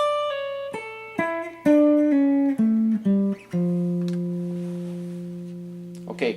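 Electric guitar runs quickly through a descending verse passage, a string of crisp picked notes ending on a long ringing held note, played close and alone.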